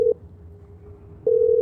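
A telephone line gives a steady continuous tone while an emergency number is called, with a brief burst near the start and the tone swelling louder again toward the end, heard alone.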